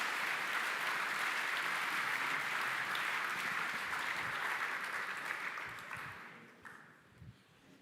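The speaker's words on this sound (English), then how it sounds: "Big round of applause." A conference audience applauds loudly and steadily after a talk, the clapping fading out gradually toward the end.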